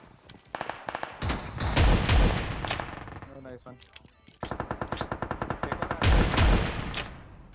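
Shotgun fire in PUBG Mobile comes as loud, close bursts of rapid repeated shots, pausing briefly before a second dense volley. A voice is faintly present between the shots.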